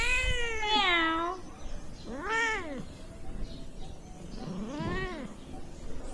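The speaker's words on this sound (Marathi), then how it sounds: "इकडे आमची मांजरी आहे," A domestic cat meows loudly and close by, three drawn-out wailing calls with pauses between them and no talking.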